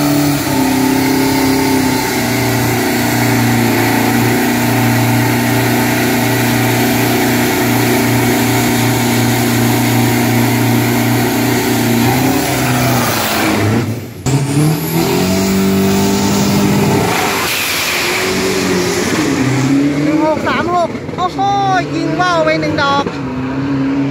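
A 2500cc, 1500 kg drag race car makes a qualifying run at Khlong Ha track, its loud engine revving through gears with sharp shift breaks, rising howls and a crackling finish, over an announcer and crowd noise.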